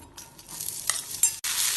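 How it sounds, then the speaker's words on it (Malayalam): Chopped beetroot is stirred into a pan with a little leftover frying oil, crackling and sizzling up close while a utensil scrapes and clatters in uneven bursts, then briefly cuts out before the sizzle resumes. "ഇനി ഇതേ പാനിലേക്ക് മുറിച്ചു വെച്ച ബീട്രൂട്ട് ഇട്ട് വഴറ്റാം"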